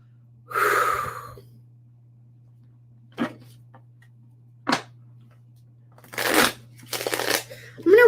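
A deck of guidance cards for a card reading is shuffled in several separate bursts: a long riffle, a few short sharp flicks, then two more riffles close to the listener.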